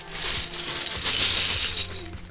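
Loose plastic keycaps from a low-profile mechanical keyboard tipped into a bag, making a brief close clattering rattle that lasts a couple of seconds.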